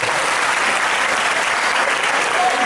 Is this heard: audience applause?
yes